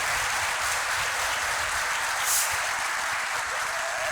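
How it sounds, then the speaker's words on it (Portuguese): Audience applause for a group at an event, a steady, full round of clapping from many hands, holding at an even level from start to finish. "Uma salva de palmas para esse grupo."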